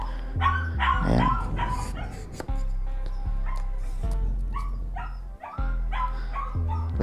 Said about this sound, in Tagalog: Pasensya na kayo doon sa asong maingay.